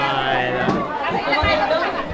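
Dense crowd chatter at a wedding, many overlapping voices forming a steady babble close around, loud and continuous for the whole stretch.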